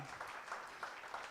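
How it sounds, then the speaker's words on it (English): An audience at a sales conference applauds steadily, a dense wash of clapping heard from within the room. "So please, I want you to give a warm round of applause for the host of this particular event, Dr. Sunday Olorusheyi."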